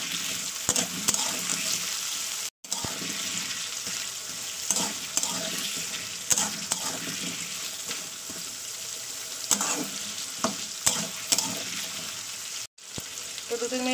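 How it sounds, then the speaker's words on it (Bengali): Potatoes sizzle as they fry in oil in a pan while being stirred, with a steady loud crackle that runs almost continuously and stops only briefly twice. Ingredients for a Bengali fish curry with eggplant are being prepared. "আলুটাকে দিয়ে না একটু 2-3 মিনিট একটু তেলে ভেজে নিতে হবে।"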